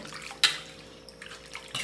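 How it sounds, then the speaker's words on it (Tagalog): Tap water pours into a pot of pork bulalo soup being cooked, a soft running splash with brief louder gushes near the start and end, heard alone at moderate level. "kapag dagdag na ako ng tubig, kung napapansin ang dami ng tubig niya"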